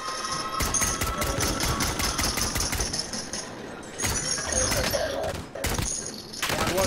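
Video game gunfire: rapid, loud automatic bursts crackling nearly continuously, with brief pauses between volleys and a faint voice now and then underneath.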